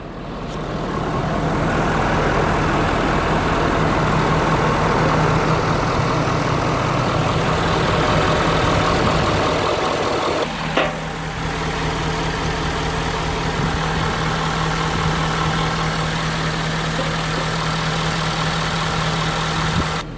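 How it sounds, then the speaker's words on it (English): A 2012 Ford F-250 Super Duty 6.7 L diesel pickup idles steadily and loud, with a constant low hum and rattle, briefly interrupted by a clunk midway, no talking. "we have the truck idling right now for 15 minutes"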